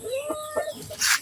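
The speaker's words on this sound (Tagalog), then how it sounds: "Yan ang manok ko. Gutom na yan." A hungry chicken waiting for feed clucks close by in a short run of uneven calls, rising and wavering in pitch, and ends on a louder, harsher squawk.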